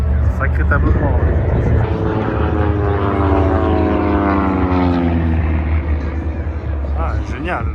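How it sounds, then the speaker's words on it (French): Propeller airplanes fly in a mock dogfight at an air show in Tallard, their engine drone rising and falling as they sweep past near and loud, with someone talking over them. "Les avions vont revenir face à face pour une percussion."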